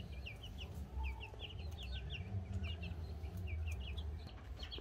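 A flock of hens, including bare-necked (naked neck) chickens, clucks nervously and continuously, with repeated short calls layered over a steady low farmyard rumble, fairly close and without talk.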